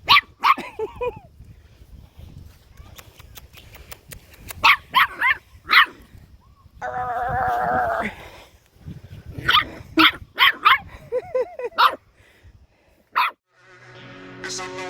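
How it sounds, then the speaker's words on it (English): A playful dog barks in sharp, repeated bursts, loud and close, with pauses between the volleys and a short whine in the middle. "Oh, you're a big tough dog"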